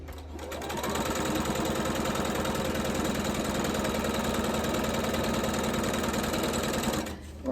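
A sewing machine stitches quilt half-square triangles at a quarter-inch seam, a loud, fast, even mechanical hum and clatter starting up, running continuously for about six seconds, then stopping.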